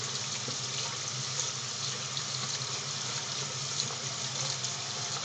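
Tap water runs steadily from a faucet feeding a gas boiler whose pilot light cuts out as the water heats, giving a constant broadband hiss at moderate level with no talk over it.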